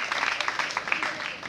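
Students clapping to welcome the Mimona Grand team at the Institut Notre-Dame de Fatima, a dense, steady patter of many hands with a few voices mixed in, fairly close.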